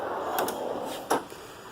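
A Snap-on KRL tool box drawer opening and closing, two quick metallic slides and clacks with a sharper knock near the end, close by in a quiet room.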